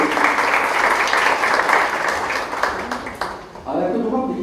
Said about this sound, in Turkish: Ve alkışlarınızla sahneye sevgili Kıvanç Yılmaz'ı alıyorum.